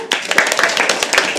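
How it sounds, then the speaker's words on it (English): Audience applause at a live poetry open mic at The Habitat: a sustained patter of many hands clapping, fairly close and loud, with irregular sharp claps through it and a voice briefly audible underneath. "Please keep the applause going for our next performer of the afternoon"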